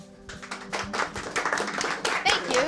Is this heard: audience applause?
yes